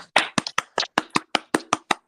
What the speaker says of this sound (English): All right, come on, clap.